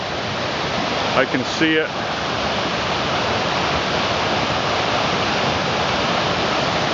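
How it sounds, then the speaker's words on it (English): A small waterfall on the trail to Fairy Falls roars in a loud, steady broadband rush that fills the whole stretch, with a voice speaking briefly over it early on. "this is just a little minor waterfall before we get to the Fairy Falls"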